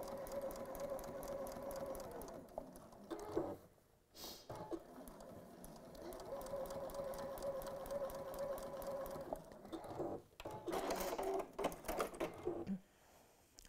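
A sewing machine stitches small toy feet in bursts of rapid, steady mechanical whirring, stopping briefly between runs with a few clicks and handling knocks, close and fairly quiet.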